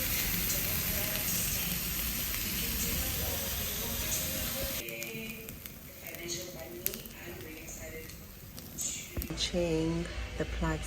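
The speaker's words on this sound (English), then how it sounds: "So these are my last set of veggies that I'm doing for my stir fry with prawn" Vegetables and prawns stir-frying for noodles give a continuous hiss and sizzle under ongoing speech, with occasional clatters and stirring noises as the pan is worked.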